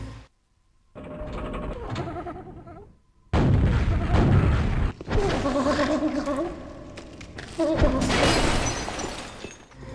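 The Mimic's laugh from Dark Souls 3: a harsh, warbling cackle rising in several loud bursts separated by short pauses, with a gritty, bleating quality.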